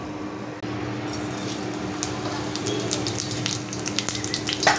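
Cumin seeds and bay leaves sizzle and crackle in hot oil, a steady frying hiss with scattered pops and spits growing a little livelier toward the end.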